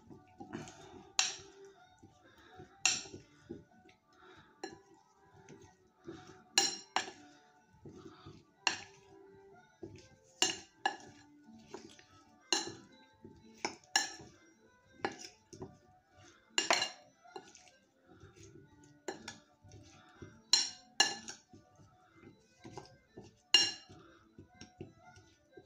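Cubes being mixed in a bowl for cold aperitif skewers, with many quiet clinks of cutlery against dishes at an irregular rhythm, faint and close over a near-silent background.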